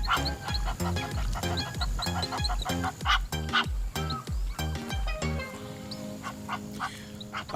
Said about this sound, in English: I think what we are seeing here is the greater flamingo